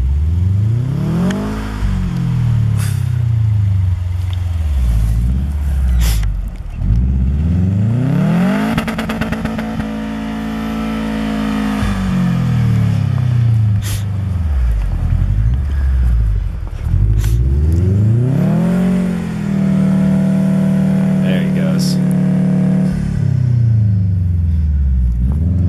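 A Subaru Forester on summer tires ploughs off road through deep snow, its engine revving up and easing off in repeated loud surges, wheels churning near the listener with a constant rumble underneath.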